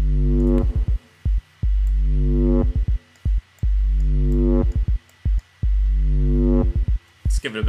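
A synth bass built in Ableton Operator with slight reverb, played as repeated short notes in a choppy rhythm, each plucky hit ringing briefly with a small reverberant tail, loud and close with no voice.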